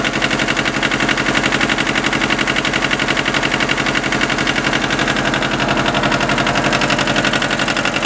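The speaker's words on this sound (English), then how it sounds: "Good running tractor." An old tractor engine runs steadily, a loud, close, rapid chugging pulse with a harsh rattling texture that holds an even rhythm from start to finish.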